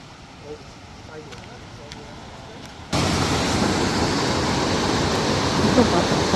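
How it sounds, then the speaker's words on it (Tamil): Quiet background gives way abruptly to a loud, steady roar of water rushing into a canal lock on the Wey and Godalming Navigation, continuing unbroken to the end, close and full. "சத்தம் போட்டு நல்லா தான் தண்ணி நிரப்புறதுக்கு தான் கொஞ்சம் டைம் எடுத்துக்குது."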